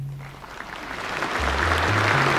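Applause filling the hall of a Soviet Communist Party congress, a broad wash of clapping that swells steadily louder, with low sustained notes sounding beneath it.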